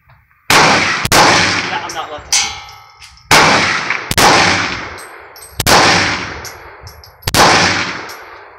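Real firearm shots fired while burning through ammunition, six loud sharp reports spaced a second or two apart, each with a ringing metallic clang and decaying echo.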